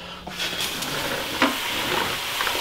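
A pot of water bubbles and hisses at a rolling boil, a steady seething noise with occasional louder pops and splutters.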